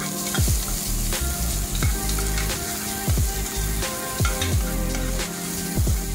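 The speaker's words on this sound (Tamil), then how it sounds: "இப்போ இதில் 1 கப்புக்கு நான் ஒரு பெரிய வெங்காயம் கட் பண்ணி வச்சுருந்தேன், அதை ஆட் பண்ணிக்கிறேன்." Chopped large onion frying in a pan, stirred with a utensil, with a steady sizzle broken by regular scraping strokes. Close and fairly loud, with no speech.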